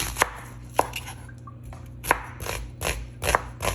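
A knife chops through an onion on a cutting board, with about seven crisp, separate cuts coming at an uneven pace. The cuts sound close and clear against a quiet background, and no one speaks.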